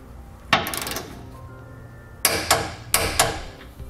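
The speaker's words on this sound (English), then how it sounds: "I'm going to torque all my hardware down to the specified amount in the instructions." A torque wrench clicks as it tightens the hardware on an etrailer Class 3 trailer hitch receiver, giving four sharp, close metallic snaps: one alone, then three in quick succession.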